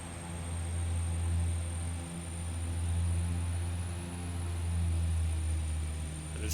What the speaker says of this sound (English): we're going to go ahead and set the takeoff power before we start rolling